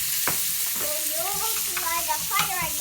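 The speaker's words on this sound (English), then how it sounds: "So we're going to go ahead and just soften and caramelize those onions" Onions sizzle and soften in a frying pan, a steady close crackle with occasional stirring clatters as they cook toward caramelizing.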